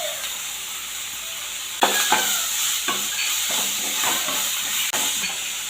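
Green chili and ginger stirred in a hot pan, hissing and sizzling steadily in the oil, with a spoon scraping the pan in several distinct strokes, close and fairly loud, no talk.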